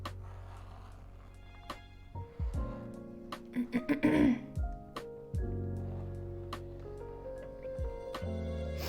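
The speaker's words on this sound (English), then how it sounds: "apologies if I'm clearing my throat a ton" Throat clearing from a person with a sore throat after a morning of coughing, several short rough bursts in the middle of a steady background hum, close by.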